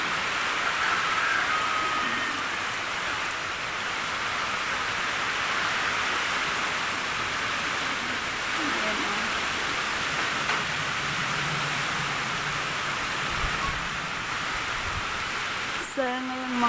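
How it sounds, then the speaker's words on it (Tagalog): Heavy rain pours steadily during Typhoon Kristine, a dense, continuous hiss close by that masks faint background sounds and ends with a brief clatter. "ulan."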